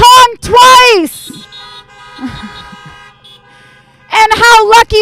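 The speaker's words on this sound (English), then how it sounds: "So if your kids are behaving in the car, honk once. And if they're not, honk twice." Car horns honking from vehicles gathered at an outdoor Chanukah event, loud harmonic toots at the start, fainter honks in the middle and another strong burst of honking at the end.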